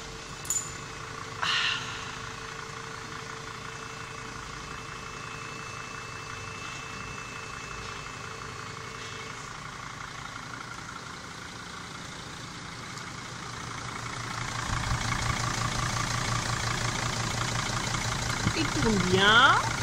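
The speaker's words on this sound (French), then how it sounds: "Le moteur tourne." A camper van engine idles steadily in a low rumble throughout, growing slightly louder and rougher near the end, with brief clicks early on.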